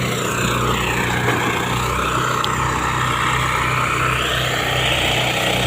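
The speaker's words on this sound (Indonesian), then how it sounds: "Ini adalah suara mesin ya" A modern SJM power thresher for rice runs with its engine droning loud and steady throughout, a continuous mechanical hum with no pauses and no speech.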